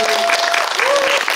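An audience at a Korean film screening with cast Q&A applauds in a brief, dense burst of many hands, loud and close, with a voice faintly audible over the clapping.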